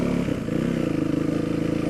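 A big, heavy motorcycle rides over rough ground, its engine droning steadily and loudly up close with rattling and clattering from the bumpy terrain throughout.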